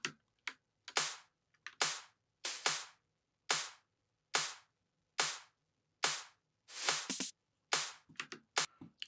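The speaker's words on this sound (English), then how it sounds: "this really, really small snare, and we'll maybe do a little roll. So 2 or 3 shots like that." Small, sharp snare drum hits from a psytrance drum pattern, isolated crisp cracks with short decays, spaced irregularly and closing with a quicker cluster like a brief roll.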